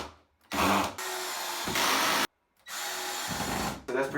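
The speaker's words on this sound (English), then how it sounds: "now I'm gonna put some screws to kind of hold this wall in place." Power drill driving screws through a shower wall panel to hold it in place during a Delta 500 shower installation, in several sustained whirring bursts separated by short pauses, loud and close.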